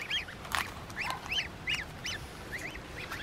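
A goose with newly hatched goslings on a farm at Kattumannarkoil: thin, high peeping calls repeat in short bursts close by, with one louder, rougher honk-like call among them.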